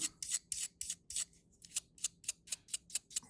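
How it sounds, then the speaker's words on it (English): Brass brush scrubbing rust off a blade in quick, regular back-and-forth strokes, about a dozen crisp scratchy swipes close up and alone, with a brief pause midway. "now I'm going to take the more aggressive brass brush and start to"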